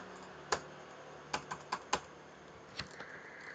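Several scattered keystrokes on a computer keyboard, close and quiet, sharp clicks in an irregular rhythm over a faint steady room hum.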